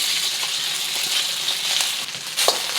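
Cooked rice fries in a wok with a close, steady sizzle and light scraping stir sounds, a brief clink near the end.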